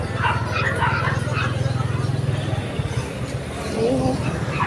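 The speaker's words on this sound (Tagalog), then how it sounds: "Iba't ibang aso guys." Several dogs bark and yip in rapid, repeated bursts at moderate distance, a steady chorus of barking with some whimpering, heard outdoors.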